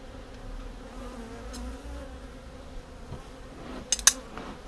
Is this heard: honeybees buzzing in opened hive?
yes